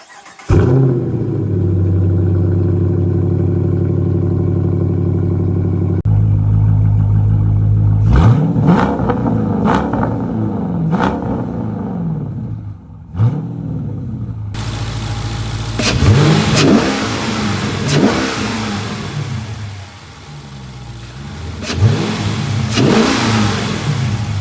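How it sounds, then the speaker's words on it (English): A widebody Dodge RT fitted with a 6.4 intake manifold starts and idles loudly, then takes several sharp throttle revs that rise and fall, heard up close with no talking. "I will throw in some sound clips, startup, some revs, just so you guys can hear it."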